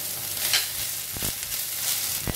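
Spring onions fry in oil with salt, making a brief, moderate sizzle broken by a few sharp stirring clicks.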